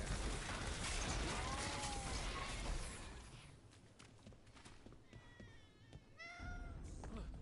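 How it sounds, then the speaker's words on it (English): A cat gives several short meows, its calls faint and somewhat distant in a noisy outdoor scene, with a steady rush of background noise throughout. "Oh, hi, cat."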